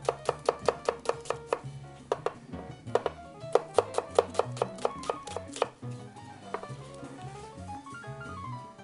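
A knife chopping bell pepper and onion into strips on a board, a fast run of sharp evenly spaced cuts that pauses briefly and resumes, then slows into scattered lighter taps, close and clear.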